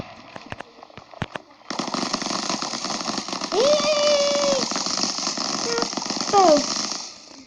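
An RPK firing in a Minecraft PE electric guns mod, heard as rapid crackling bursts of gunfire with tonal electronic sweeps over a steady game background, fairly loud and close, with no talk.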